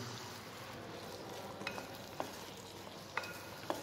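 Minestrone soup ingredients are stirred and mixed in a pan with a steady scraping, sizzling texture and a few sharp utensil clicks near the end, close and alone without talk.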